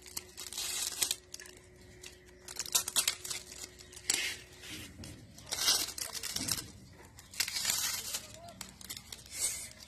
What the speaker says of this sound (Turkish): Bu kutumuzu da açalım.